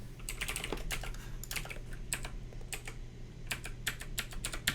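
Loud computer keyboard typing during JavaScript coding, a close, clacky run of uneven keystrokes in quick bursts with short pauses, heard alone without any talking.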